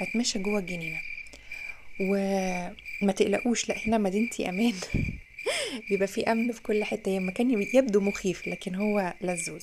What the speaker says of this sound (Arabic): انا بموت في صوت صرصور الحقل